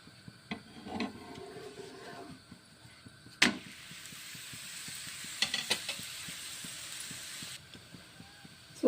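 Food frying in ghee in a pan, a soft steady sizzle and hiss with scattered crackles and a few scraping stirs, fairly quiet and close.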